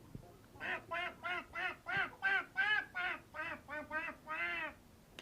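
A voice imitates a duck with a quick run of about a dozen rhythmic, nasal quacks, ending on a longer one.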